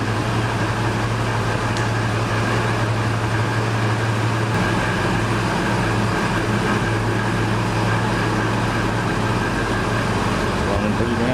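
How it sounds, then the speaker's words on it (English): 1978 truck, once flooded, idling with a steady droning whine and hum, suspected input bearing noise, loud and continuous close by. "We're gonna guess that noise is the input bearing."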